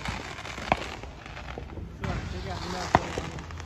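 Neighborhood fireworks on the Fourth of July crack sharply twice in the distance, set against steady outdoor rumble while people talk nearby.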